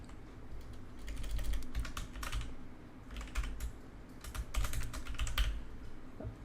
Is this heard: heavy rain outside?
no